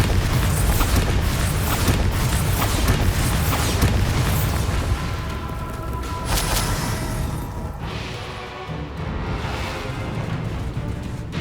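Bombarda spells go off in Hogwarts Legacy, a dense run of booming blasts and bursts layered over whooshing battle effects, loud and continuous, then thinning toward the end.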